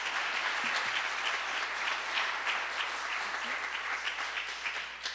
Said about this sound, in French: Je pense qu'on peut les applaudir pour leur investissement sur ce sujet.